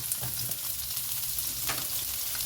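Onions and coriander stems sizzle and fry in leftover sausage oil, a steady close hiss with faint crackles running through the whole short stretch.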